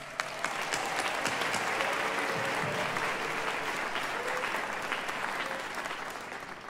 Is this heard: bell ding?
no